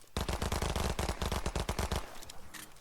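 Rapid automatic gunfire from a favorite weapon in the video game Fortnite, a dense burst of shots lasting about two seconds before tapering off, loud and close with no talking.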